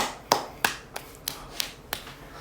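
Six sharp single claps arrive at an even, unhurried pace in a quiet classroom, each a crisp isolated smack with a short decay between them.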